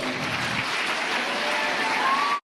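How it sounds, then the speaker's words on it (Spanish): Steady applause from a crowd fills the whole stretch, dense and even, then cuts off abruptly at the end. "Un fuerte aplauso para ellas, por favor."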